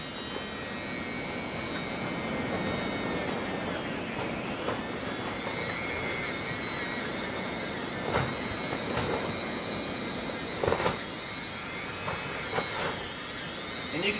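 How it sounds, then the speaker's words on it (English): A variable-speed Dremel rotary tool grinds bonsai deadwood, giving a steady, close, high-pitched whine that holds for the whole stretch with small shifts in pitch and a few brief scraping bursts as it bites into the wood. "Now this is a variable speed Dremel"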